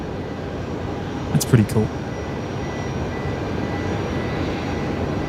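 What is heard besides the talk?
airliner departing Brisbane Airport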